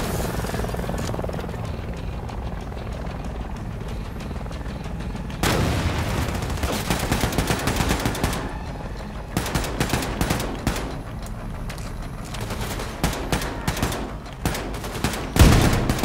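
Rapid gunfire rips through a firefight against drones in Wolfenstein II: The New Colossus, loud volleys and bursts layered over a droning rotor-like hum, growing denser and more broken in the second half.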